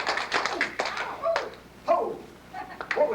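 A group clapping hands, several sharp, close claps in an uneven rhythm over a steady faint hum, with a dog-like yelp and brief vocal sounds between them.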